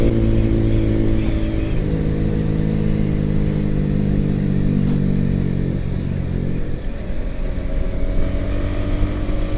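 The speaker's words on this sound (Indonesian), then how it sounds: "ini kita udah ganti ke mode silentnya, sunyi, senyap, kayak motor biasa" A Yamaha R15 V3 motorcycle idles with a Ronin Hanzo exhaust set to its silent mode, giving a steady low engine rumble that stays constant and close.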